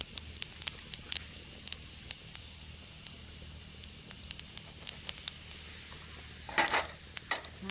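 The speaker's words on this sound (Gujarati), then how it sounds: "તેલ ગરમ થઈ ગયું છે, આપણે જીરું નાખી દઈએ." Cumin seeds sizzle and crackle in hot oil, giving a soft continuous fry with scattered sharp pops and stirring clicks, brief bursts growing busier near the end, no voices.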